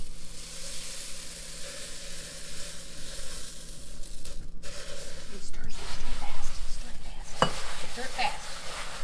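Crispy rice cereal is stirred quickly into a warm Scotcheroo mixture in a pot off the heat, giving a steady crackling, rustling scrape that grows louder and busier toward the end, with a sharp clink near the close.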